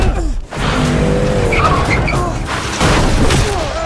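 Car roaring off at speed with a loud rumbling engine and squealing, skidding tyres, harsh and close, with brief sharp bursts in the mix.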